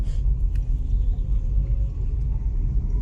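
Low, steady engine rumble of a car being parked near the Sakhi Jam Datar shrine, a close continuous drone with no talking.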